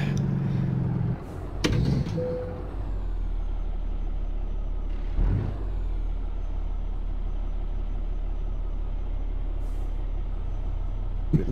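Truck engine in American Truck Simulator held at a steady, loud low rumble, with a short hiss and clunk near the start and another brief burst midway, no talking.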